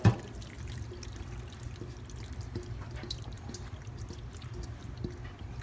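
Baked ziti with meat sauce is spooned into a baking dish, giving soft wet squelches and faint scraping. A short knock comes at the start, and quiet slippery plops follow at a low level.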